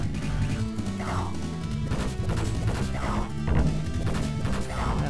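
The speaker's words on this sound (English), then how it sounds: "Donatello kicking out, kicking backside, kicking shell." Retro Teenage Mutant Ninja Turtles game on a Sega Mega Drive/Genesis Mini emulator: Donatello's kicks land as repeated loud smacking hits over busy, continuous game music.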